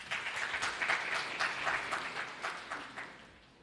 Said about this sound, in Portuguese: Palmas para o nosso amigo aí, gente.